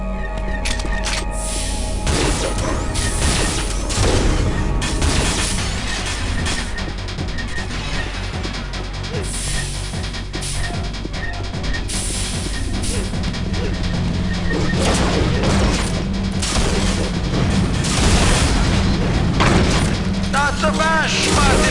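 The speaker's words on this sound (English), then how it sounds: "Or the shooting begins." Gunfire and explosions from the video game Unreal come as heavy crashes, booms and rapid shots layered over one another. The action stays loud and close throughout, with a voice speaking over parts of it.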